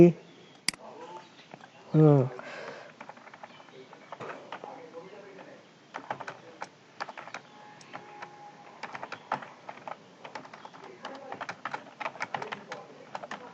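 Typing on a computer keyboard while points are being written, with light scattered key clicks in irregular bursts, soft and close, as a person speaks over them.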